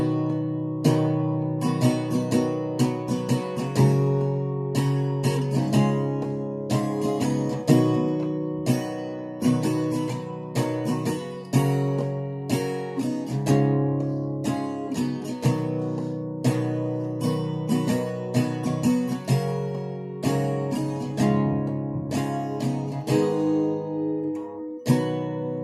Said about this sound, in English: the chorus sounds a little like this